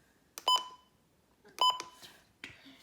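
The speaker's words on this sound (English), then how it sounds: "Next is the button beeps." Three short electronic beeps from the buttons of a Midland WR120EZ NOAA weather radio, each a bright, tonal blip, the first two clear and close with a fainter third after a pause.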